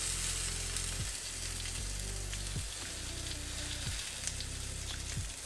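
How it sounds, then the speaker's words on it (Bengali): Chicken kababs fry in oil in a pan for a Ramadan recipe, giving a steady, loud sizzle that runs throughout, with a few soft thumps from the pieces being turned and no voices. "এক পাশ অলরেডি হয়ে গেছে করে একটু তেলগুলা দিয়ে দেবো দুই মিনিট পর আবারও উল্টিয়ে দেবো এভাবে চারপাশ ঘুরিয়ে ঘুরিয়ে ভেজে নিব"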